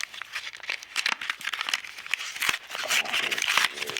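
Plastic wrapping on a Magic: The Gathering card pack crinkles and tears close up, a busy, continuous rustle with sharp snaps as it is opened.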